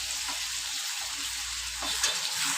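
Mutton pieces salted and stir-fried (kosha) in a pan for a home-style curry, giving a steady close sizzle with faint stirring scrapes, uninterrupted by any voice.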